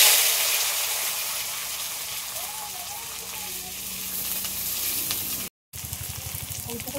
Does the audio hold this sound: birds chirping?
no